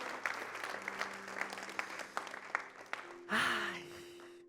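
Church congregation applauding during a worship service, a soft, steady patter of clapping that fades and gives way to a voice near the end.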